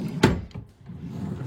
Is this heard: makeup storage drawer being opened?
yes